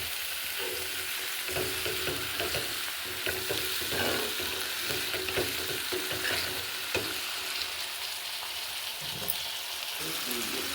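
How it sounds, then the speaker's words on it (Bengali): Sesame paste, green chilli paste and chilli powder masala sizzle and fry in a pan, a continuous crackling hiss with occasional scraping stirs, close and steady throughout. "তিল বাটা, কাঁচা লঙ্কা বাটা আর ওই লঙ্কা গুঁড়ো মশলার সাথে একসাথে ভালো করে কষে নিলাম।"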